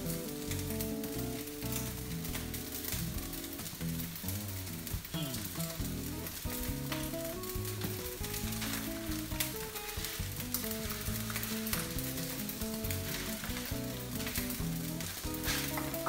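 Vegan fried rice (nasi goreng) sizzling and being stirred in a hot pan, a steady dense crackle with scraping stir strokes running continuously over sixteen seconds, close and fairly loud with no voices.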